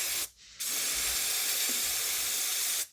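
Brake cleaner sprays from an aerosol can during intake solenoid and filter work on a 2005 Toyota Corolla 1.8, in two long, close, loud hissing bursts divided by a short pause.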